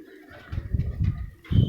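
Pigeons being held and handled while their feathers are colored give soft, low throaty coos in a few rhythmic bursts, close by, with faint background voices.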